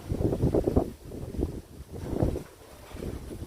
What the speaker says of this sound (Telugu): కెమెరాలో ఎంత గాలి వస్తుందో అసలు